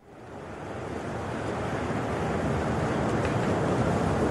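Blizzard sound effect played on an Alexa smart speaker: a continuous roar of howling wind and rushing noise that swells in over the first second, then holds steady and loud to the end, with no voices.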